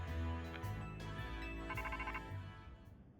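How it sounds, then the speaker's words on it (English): A phone ringtone chimes in the Pokemon Legends Z-A video game, a bright repeating electronic melody playing alone and fairly loud before fading out. "Oops, that's my phone."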